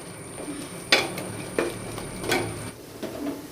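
Pulao ingredients fry in a pan over a low gas flame, with a soft steady sizzle under a few distinct scrapes and stirring knocks at an irregular rhythm, close and moderately quiet, with no voices.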